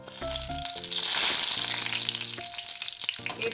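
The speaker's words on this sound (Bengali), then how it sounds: "তেল আমার গরম হয়ে গেছে, এবারে প্রথমেই আমি দিয়ে দিলাম 5 ফোড়ন" Panch phoron spices hit hot oil in a wok with a loud, crackling hiss that swells and then settles, over background music.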